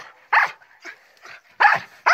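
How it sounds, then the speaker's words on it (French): A happy dog barks loudly and close by in four short, sharp barks at an uneven rhythm, with quiet gaps between them. "il aboie parce qu'il est content"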